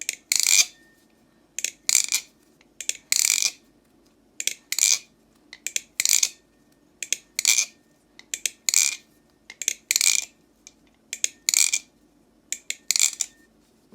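An Armed Shark Kraken clone balisong knife is flipped open and closed over and over, its bright metallic clicks and clacks coming in quick irregular bursts, close and alone.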